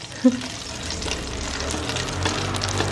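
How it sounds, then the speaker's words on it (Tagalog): Garlic and red onion sautéing in hot oil, a steady soft sizzle and crackle running throughout, with a brief louder pop as the ingredients hit the pan near the start. "ngayon lang ako maggigisa ng ganito"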